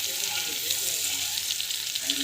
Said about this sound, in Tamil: ஜஸ்ட்டு வந்து வதக்கிறேன்